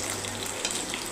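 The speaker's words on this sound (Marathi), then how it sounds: "तेलात फोडणी देऊया।" Curry leaves hit hot oil with cumin for a tempering in a Khandeshi khichdi, giving a dense, steady, close sizzle and crackle with no voices.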